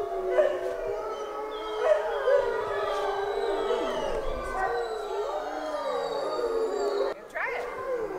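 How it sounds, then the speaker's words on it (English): A chorus of wolves and wolf dogs at a sanctuary howls together, many overlapping wavering tones sustained throughout, with yips mixed in and continuous and close. "So listen to that, guys. They're all howling."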